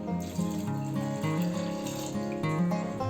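Water pours steadily into a pressure cooker holding washed chickpeas for dal khichdi, a continuous close splashing flow.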